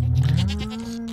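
A goat bleats in the Stardew Valley farming game while being milked, a single short, close, nasal bleat with no talk over it.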